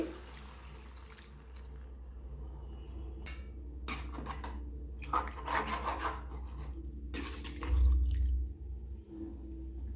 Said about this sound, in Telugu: ఇప్పుడు వాటర్ వేసుకోవాలండి